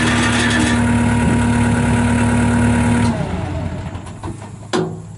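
A 1994 Bobcat 743B rubber-tire skid steer loader engine runs at a steady, loud idle after restarting, with a strong droning hum that drops and roughens after about three seconds before a brief clank.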